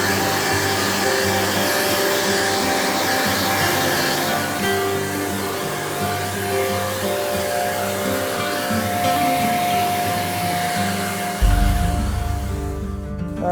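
A blower clears loose scraps off newly laid artificial turf, a steady close whooshing roar of rushing air that wavers slightly in pitch before a lower, louder burst near the end.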